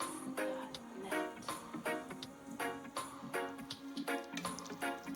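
Pot of Jamaican rice and peas with coconut milk being stirred, a quick regular series of soft wet clicks and knocks against the pot, close and fairly quiet.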